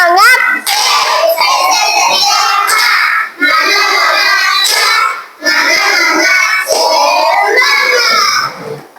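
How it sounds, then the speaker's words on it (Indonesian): Children in a classroom chant a rhythmic Indonesian clapping cheer (tepuk semangat) in loud, steady unison, with claps that are hard to pick out under the voices. "Ayo sekali lagi tepuk semangat."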